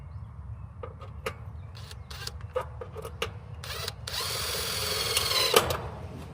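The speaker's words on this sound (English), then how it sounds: "So I'm gonna give me a pre-drill hole right here." A power drill whirs in short bursts, then runs steadily as it bores a pilot hole on an AC condenser unit, close and fairly loud with a low background hum.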